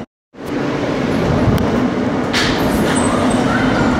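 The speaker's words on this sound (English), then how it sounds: "This is a Coney Island Stillwell Avenue-bound F local train." An NYC subway R160 F local train running toward Coney Island, a loud, steady rumble and rush of wheels on track heard from inside the car, starting abruptly after a brief silence.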